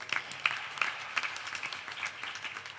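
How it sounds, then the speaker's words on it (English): Applause from a temple audience at an anniversary Ramayan Yagna gathering in Mississauga, honouring the pundits: a fairly faint, scattered patter of clapping with a few sharper individual claps standing out. "Give them a big round of applause."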